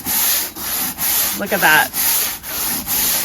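Stiff brush scrubbing a wooden deck during spring cleaning, a steady rhythm of close, loud rasping strokes with brief gaps between passes; a voice speaks briefly midway.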